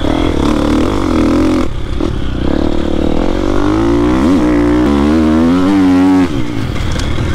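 A Triumph TF250X motocross bike engine revs loudly and up close, its pitch swelling and dropping through several throttle blips over a steady rumbling idle.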